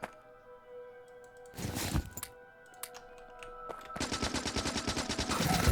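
Rapid turret gunfire rattles in short bursts, then a sustained stream of fire during an attack in the video game Factorio, loud and alone.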